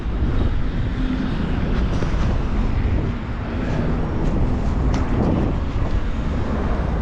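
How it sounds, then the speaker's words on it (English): Strong wind buffets the microphone in a constant low roar on a downtown Montreal street, gusting slightly louder and softer throughout. "Oh, a little windy up here though."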